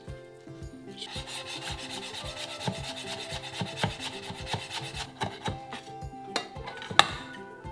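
Rhythmic knife strokes slicing rolled fresh mint leaves on a wooden cutting board, a steady series of close, crisp taps and rasping cuts, with one sharper knock near the end.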